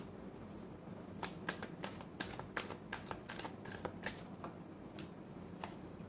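Tarot cards riffled and shuffled by hand in a steady run of crisp, close flicking snaps that repeat roughly every half second, with no voices over them.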